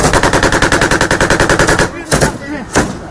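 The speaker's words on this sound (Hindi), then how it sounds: "तो आमने सामने की फायरिंग आप देख सकते हैं किस तरह से दोनों तरफ से फायरिंग हो रही है।" Close, loud machine-gun fire in a battle between the Afghan army and the Taliban, a rapid burst of about twenty evenly spaced shots, then a pause and two more separate loud reports.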